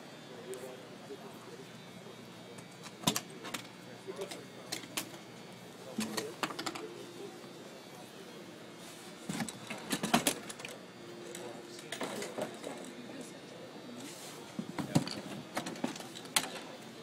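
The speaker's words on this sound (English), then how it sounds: "Taking the pins out of the seat." Metal pins are pulled from a folding seat, with scattered sharp clicks, rattles and small knocks, close by over faint steady background noise.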